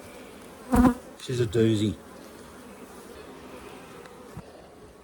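Honeybees hum steadily around an open hive in a beekeeping inspection, a low continuous buzz close by, while a person speaks briefly over it near the start.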